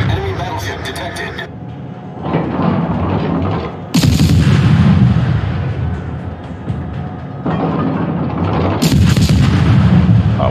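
The German cruiser Dresden's guns fire in World of Warships as heavy booming salvos, with loud blasts near the four- and nine-second marks over a rumbling battle backdrop.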